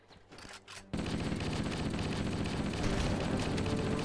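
Rapid shotgun and automatic gunfire from Halo: The Master Chief Collection, a sudden loud burst after a quieter second, then sustained, dense, continuous shooting with no talk.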